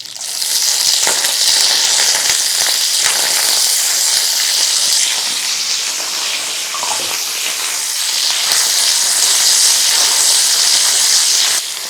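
Chopped onions sizzle in a hot pan with cumin, fennel seeds, curry leaves and salt for pineapple chicken, giving a loud, continuous broad hiss with faint crackles and no talking.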